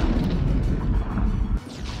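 Shelling explosions from military artillery strikes on stone bunker-like positions produce a continuous heavy rumbling boom, loud and low, with a brief sharp break near the end.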